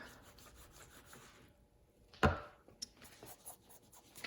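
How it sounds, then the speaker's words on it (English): A bar of soap is rubbed across netting laid over wet wool for felting, giving soft, close scratchy strokes with one sharper scrape in the middle and otherwise quiet surroundings. "I'll hold my netting down and add a few rubs of soap"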